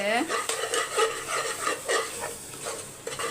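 Masala with chilli powder and salt gets stirred in a pan, giving quick close scraping strokes over a light sizzle and short clinks of utensil on metal for a few seconds, with no talking.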